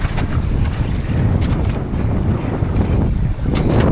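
Heavy wind buffets the microphone over the roar and slap of big sea waves around a small boat, loud and continuous.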